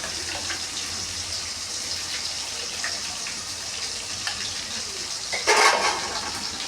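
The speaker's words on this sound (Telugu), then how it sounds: "అల్లం పేస్ట్ కూడా ఫ్రై అయింది కదా" Ginger paste and chicken frying in a pan for an Andhra-style chicken fry, giving a steady close hiss and sizzle with a brief louder burst of sputtering near the end.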